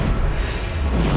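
A Depulso force spell in Hogwarts Legacy lands as a dense, booming low-frequency thump that is sustained and loud through the whole short moment, with no talk.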